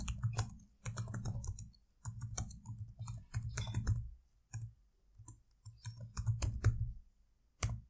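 Typing on a computer keyboard, entering text into an email form, heard as close, steady clusters of quick key clicks in irregular bursts with brief pauses.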